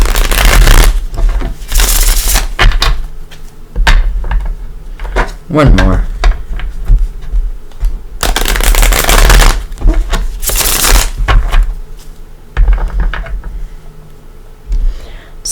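Tarot cards being shuffled by hand in repeated loud riffling bursts, close up, alternating with short pauses while a person speaks briefly.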